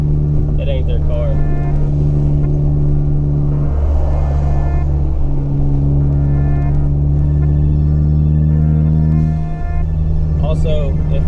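A 2016 Ford Focus ST's exhaust drones steadily while driving, a constant low, rumbling engine tone holding the same pitch throughout, heard up close with faint background noise.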